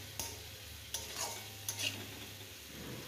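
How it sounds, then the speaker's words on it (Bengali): Spice paste (masala) for a bata fish curry being fried and stirred in a pan, a quiet low sizzle with a few sharp spoon taps against the pan. "মশলাটা ভালো করে ভেজে নিতে হবে।"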